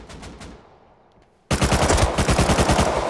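Bursts of gunfire in the video game Rust during a team battle: a few distant shots first, then a loud close rapid automatic burst firing continuously to the end.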